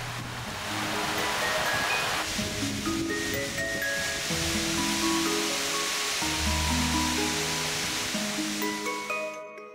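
A waterfall, Sistrafoss in Iceland, roars in a steady, broad rush of falling water, loud and continuous, with some faint tonal sounds underneath and no talking.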